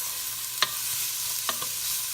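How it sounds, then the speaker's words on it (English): Baby carrots and yellow onion sauté in a pot with a constant soft sizzle, broken by a few brief scrapes of stirring, close and without talk. "So we're just going to saute this for a few minutes."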